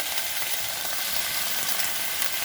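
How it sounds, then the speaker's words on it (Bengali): Onion and potato frying together in a pan with green chilli, a steady dense sizzle close by with no voices. "দুটো একসঙ্গে ভাজা হয়ে যাবে আর আলুটাও একটু সেদ্ধ হয়ে যাবে"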